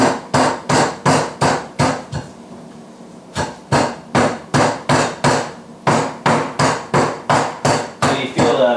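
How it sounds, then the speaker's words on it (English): Meat hammer pounding slices of wild turkey meat flat on a board: a rapid run of loud, close, sharp thuds in steady bursts, with a brief pause partway through before the pounding resumes. "take your meat hammer and we're going to pound these out"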